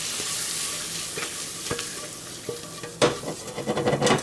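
Butter and flour sizzle in a skillet while a utensil stirs them, soft steady frying hiss broken by sharp scraping clicks and taps that grow busier and louder toward the end; no talking.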